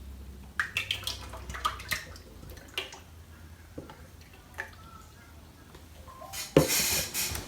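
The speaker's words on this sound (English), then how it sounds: "First, you're gonna want to whip up your heavy whipping cream. So I'm gonna open these. And we pour these in." Heavy whipping cream is opened from cans and poured into a bowl: quiet clicks and scattered drips at first, then a brief, louder splashing pour near the end.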